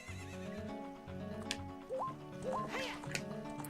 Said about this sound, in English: Oh, Epona's a good horse.